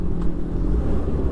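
Steady low rumble of a car moving through heavy traffic near Magallanes, broadband road noise holding constant throughout with no voices.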